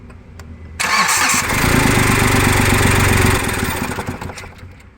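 A Hyundai Xcent diesel car with low pick-up and smoking cranks briefly, then catches and settles into a loud, steady, rattling diesel idle that eases off toward the end.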